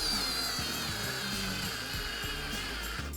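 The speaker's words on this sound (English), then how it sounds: "Let's give this tiny little drill a go and see what it can do" A small cordless Lidl drill driving a thick screw into wood, its motor whining steadily throughout with a low, labouring drone as it struggles under load.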